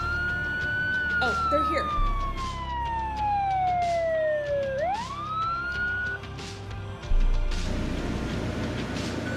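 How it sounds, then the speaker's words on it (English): Sirens wail nearby, one sweeping downward then rising again, with some background noise and a person speaking briefly. "Yes, I hear the sirens."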